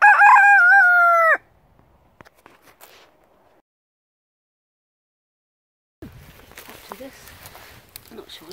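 A rooster crows loudly and close at the start, then there is near silence, followed by scattered soft clucks of chickens and rustling movement in a woodland.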